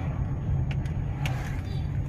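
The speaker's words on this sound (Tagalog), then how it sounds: "yan, traffic na dito banda" Steady road traffic from cars passing, a continuous low rumble with a few brief higher whooshes and clatters on top. The sound stays moderately close and even throughout, with no voices standing out.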